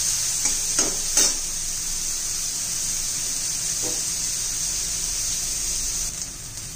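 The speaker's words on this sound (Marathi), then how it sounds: "हे पण छान असे आपण तेलात भाजून घेतलेलं आहे सोयाबीन" Soybeans fry in oil in a pan, making a continuous bright hiss that stays steady throughout, with a few brief stirring scrapes near the start, close and without talking.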